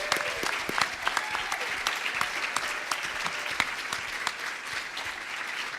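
An audience applauds at the close of a Women for Kansas candidate forum, sustained clapping from many hands with crisp individual claps standing out, steady throughout with no one speaking.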